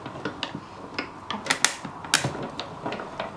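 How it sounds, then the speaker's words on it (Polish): A hand-cranked die cutting machine creaks and clicks close by, a steady rhythm of ratcheting ticks with a few louder squeaking creaks in the middle, no voices. "Na początku ta maszyna strasznie skrzeczy, więc nie bójcie się."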